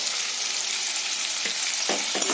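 Spices with salt, turmeric and cumin powder fry in a pan, a dense close sizzle with brief scraping stir strokes near the end.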